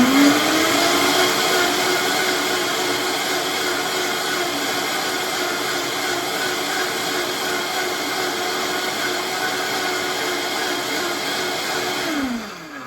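A blender on its cleaning program whirs loudly and steadily for about twelve seconds, its pitch rising at the start and winding down at the end.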